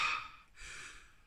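Breathwork breathing on a guided audio track: two strong breaths through the mouth, each a breathy airy rush, close and fairly quiet, with no talking.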